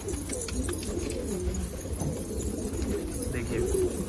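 Dense cooing from a flock of about 200 Patiyala pigeons fills the space, overlapping low calls and rustling at steady loudness, with faint chirps and a distant voice beneath.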